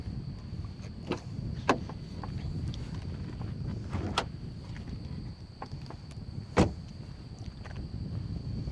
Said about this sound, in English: Let me pop the hood and we'll take a look underneath the hood.